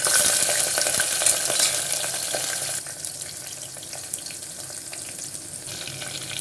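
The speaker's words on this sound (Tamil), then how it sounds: "கடுகு உளுத்தம் பருப்பு நல்லா பொரிஞ்சிருச்சு இப்போ வந்து மிளகாவை ரெண்டு ரெண்டாக கட் பண்ணி சேர்த்துக்கலாம்" Mustard seeds, urad dal, chillies and garlic fry in hot oil with a loud, steady crackling sizzle that eases slightly partway through, with no talking.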